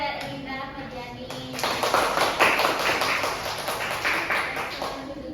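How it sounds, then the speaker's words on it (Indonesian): A small class claps for students during a microteaching lesson, brief scattered clapping that swells after a quiet opening and stays fairly close, with a voice speaking alongside. "Kasih tepuk tangan untuk Jasmine dan Susanti dan Erlinda Agustina dan Erlinda Rahmadiani"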